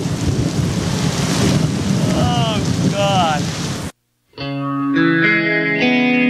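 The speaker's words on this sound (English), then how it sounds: "a tropical rainstorm rolls in" A heavy tropical rainstorm in Belize during the rainy low season roars as a dense, continuous wash of rain and rumble, with a person exclaiming briefly before it cuts abruptly to music.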